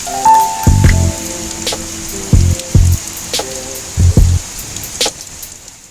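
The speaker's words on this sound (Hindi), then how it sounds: "इतना तेज बारिश आया ना, क्या ही बताऊँ। देखो, और उस बारिश के साथ बहुत ही ज़्यादा हवा हो रहा है" Heavy rain driven by strong wind makes a steady hiss, broken by loud, close thuds and splats of water hitting a surface in irregular bursts.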